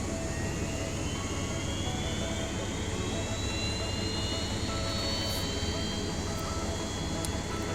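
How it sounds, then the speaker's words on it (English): An Airbus A320's engine 1 spools up during start in a flight simulator game, a loud continuous jet roar and whine with a slowly rising tone, steady throughout. "ignition start, engine 1. Starting engine 1."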